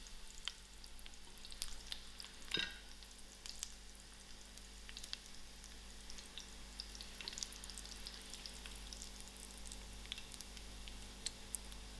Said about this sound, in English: I'll allow this to fry out just a little.